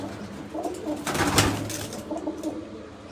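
Pigeons coo in low, throaty, repeated calls near the listener, with a brief rustle in the middle.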